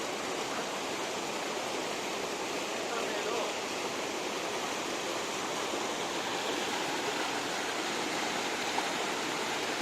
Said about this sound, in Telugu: ఇది టాప్ సైడ్, ఇక్కడ నుంచి ఫాల్ అవుతున్నాయి వాటర్